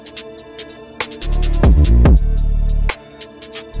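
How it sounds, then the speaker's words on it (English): A drill beat with a second snare layered in: sharp, loud snare cracks hit in a syncopated pattern over deep, sliding sub-bass 808 notes. "Then after another 4 bars, we're introducing a second snare."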